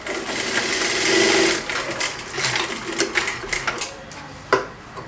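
A sewing machine stitches a blouse with a belt and cross strap, running in a steady close whir that slows and stops in short bursts, with a sharp click near the end.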